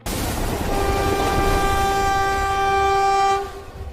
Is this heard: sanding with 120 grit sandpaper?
no